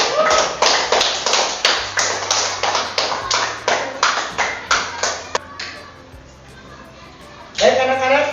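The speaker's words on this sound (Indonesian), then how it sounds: "Kita kasih aplaus buat Boy." Children in a classroom applaud a student with brisk, rhythmic clapping that holds an even beat for several seconds, then fades into softer shuffling before a final loud burst with children's voices.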